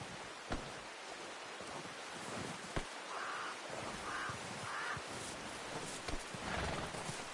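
Horse sounds in a video game: hooves clip-clopping with a few whinnying calls, set against an outdoor backdrop with crows cawing and a soft rain-like hiss.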